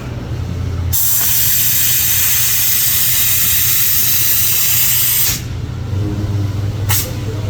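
Teroson seam sealer sprayed from a gun onto car body seams around the shock towers, a loud steady hiss lasting several seconds, then a brief second burst after a pause.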